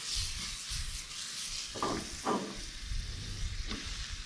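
Butter and a little oil sizzling in a frying pan ahead of toasting bread for a BLT, a steady close crackle with a few short bursts of stirring or scraping, no talk.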